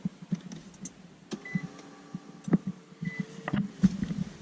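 Push-button ignition of a 2019 Infiniti QX50 SUV, a chime tone and soft electronic beeps over quiet cabin clicks and motor whirs, close and moderately loud.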